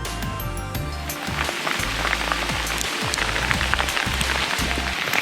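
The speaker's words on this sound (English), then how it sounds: "Check it out, freezing rain" Steady freezing rain patters and ticks on a surface nearby, a continuous dense spatter with sharper individual hits and a low rumble underneath.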